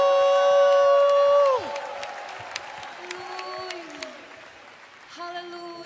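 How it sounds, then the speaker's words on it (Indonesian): A church congregation raises a long shout of praise and cheering for Jesus with no music: a sustained crowd roar with whoops and scattered applause, opening loud and gradually settling, with voices carrying throughout. "Mari tanpa musik sorak-sorai yang panjang bagi Tuhan Yesus"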